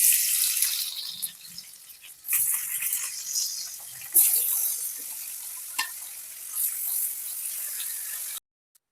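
Bata fish fry in oil with a bright, crackling sizzle that rises and falls as pieces are moved, close by and alone, ending abruptly.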